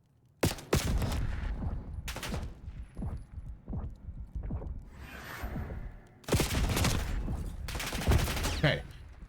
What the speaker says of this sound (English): Try shoot me twice and then go for it.